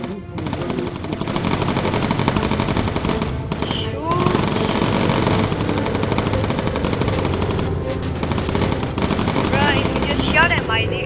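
Rapid automatic gunfire from a video game hammers on continuously and loud, layered with other game effects and a speaking voice underneath throughout.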